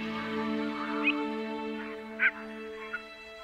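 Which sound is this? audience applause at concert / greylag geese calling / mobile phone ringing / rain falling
greylag geese calling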